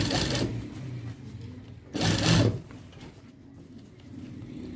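A sewing machine stitching the root of a shirt collar runs in two short bursts of rapid, close whirring, the second louder, with quiet pauses between and after them.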